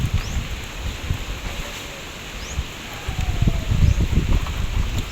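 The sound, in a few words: wind and light rain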